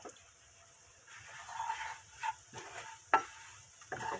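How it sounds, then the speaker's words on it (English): Flour being stirred into bacon fat in a pan over lowered heat, soft scraping strokes and occasional utensil knocks over a faint sizzle, quiet and close, with no talking. "Give it a little stir."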